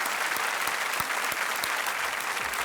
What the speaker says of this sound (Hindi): एक बार फिर तालियों के साथ हम इनका अभिनंदन करते हैं।